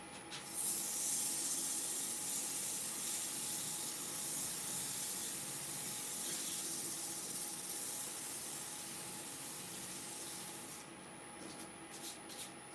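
Liquid sprayed onto an olive ash bowl on the lathe to keep dust down and lubricate gives a steady, soft hiss and rub that carries on for several seconds, faint and close, with no talk.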